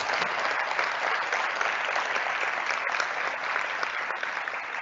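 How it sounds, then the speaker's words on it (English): An audience at a community college convocation gives sustained, even applause, a dense wash of clapping with no break and only faint murmurs underneath. "please join me in giving them a round of applause"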